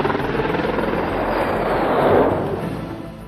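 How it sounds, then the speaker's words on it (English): A news helicopter for a Perth TV station flies nearby, with a loud steady rotor thrum and engine roar that swells toward the middle and eases off. "A camera operator travels aboard the chopper and is secured by a special harness so he can sit in the open doorway and shoot the vision."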